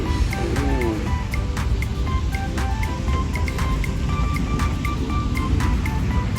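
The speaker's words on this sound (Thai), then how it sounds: "มีน้ำพุด้วยนะ" Water from a fountain at a large public playground outside a Thai provincial city hall in Nonthaburi rushes and splashes in a continuous hiss. It carries on steadily throughout, with faint scattered clicks and background activity.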